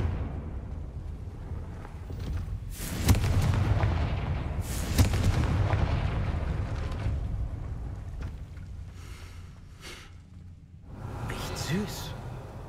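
A Confringo spell explodes in Hogwarts Legacy with heavy booming blasts that roll into a rumbling decay, then a quieter spell of scattered game noise and a last flurry of crackling bursts near the end.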